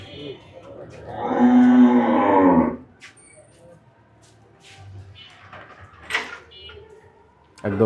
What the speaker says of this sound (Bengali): আমরা আপনাদেরকে গরুর যে আনলোডিংয়ের দৃশ্যটা সেটা দেখানোর চেষ্টা করছি।